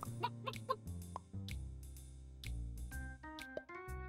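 Cartoonish chicken clucking from the game Super Auto Pets, a series of short, bright, pitched clucks over layered synthetic tones and game sound effects.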